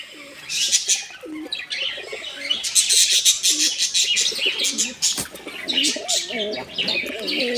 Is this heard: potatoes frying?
no